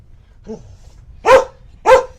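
A dog barks twice, loud and close, after a softer short whimper-like yip during a thunderstorm; quiet background otherwise.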